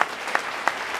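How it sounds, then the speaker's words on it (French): A congregation claps during a French-language sermon, four sharp bursts of applause spaced evenly over about a second against a soft room background. "On doit acclamer la parole de Dieu."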